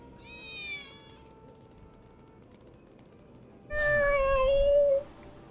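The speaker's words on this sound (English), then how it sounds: "I swear I just heard a cat." Cats meow inside the video game Final Fantasy 7 Remake: a fainter meow at the start, then after a pause a louder, drawn-out, wavering meow, over a quiet game background.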